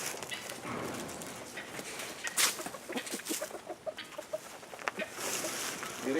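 Chickens clucking at feeding time on a farm, a scatter of close, irregular clucks and short calls over soft scratching and footfalls, with no talking.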